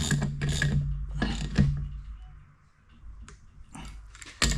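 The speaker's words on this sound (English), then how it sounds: "these will go back in with a ratchet" A ratchet tightens bolts on an Oliver 82 mower's Hydra-Lectric cylinder, with close, loud bursts of rapid metallic clicking separated by short pauses.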